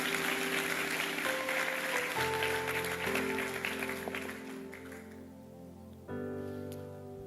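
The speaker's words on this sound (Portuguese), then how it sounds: "Dê o melhor aplauso que você pode dar ao Senhor." Church congregation applauding, a dense wash of clapping over sustained keyboard chords that gradually thins and fades as the music continues alone.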